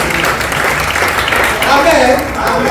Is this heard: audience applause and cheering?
yes